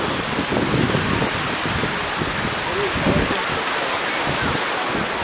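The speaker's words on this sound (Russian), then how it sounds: "Сегодня море бушует." A rough sea crashes onto a beach as a loud, continuous roar of surf. Wind buffets the microphone, and faint voices can be heard now and then.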